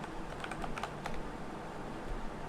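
A passphrase is typed on a computer keyboard, with quick, light key clicks in a steady run, close and alone.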